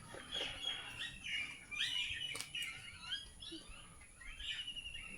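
Mynas call from a fruiting banyan tree in a village, with repeated chirps, whistles and chatter from several birds at moderate distance over a low outdoor background.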